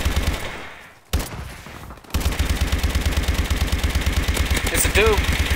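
Rapid automatic gunfire in a video game rattles off in an even, fast stream, with a short pause before the shooting resumes and carries on steadily and loudly.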